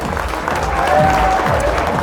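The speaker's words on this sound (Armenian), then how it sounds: "ծափեր տալիս եք" Wedding guests in a banquet hall clap together in steady, dense applause that swells slightly and fills the whole moment with crowd noise.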